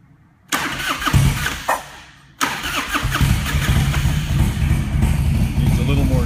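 A 2006 Harley-Davidson Road King engine is cranked and fired up, with a brief false start, then catching and settling into a loud, steady, rumbling idle close by.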